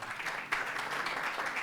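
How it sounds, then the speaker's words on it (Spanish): Audience applause at a public forum on citizen security breaks out as a short, steady wash of clapping, moderately loud and alone, with a slight swell about a third of the way through. "un aplauso, por favor."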